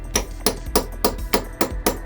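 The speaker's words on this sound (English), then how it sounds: "we're just giving these a little tap with a hammer, just so that we know they're properly seated in the Allen head" Six sharp metallic hammer taps, evenly spaced about a third of a second apart, drive an Allen key tool into a bolt head during cambelt work on a rare ABT Audi TT, close and clear with no talking.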